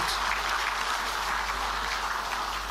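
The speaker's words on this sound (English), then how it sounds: "Can we have a round of applause for these brave hearts of our state?" Sustained applause from a crowd at a Meghalaya Day 2025 gathering, steady and dense clapping throughout, fairly loud.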